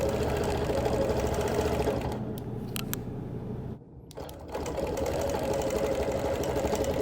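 A sewing machine stitches quilting lines across a quilt in a steady, continuous mechanical whir that pauses briefly midway, then resumes, close and loud with no talk.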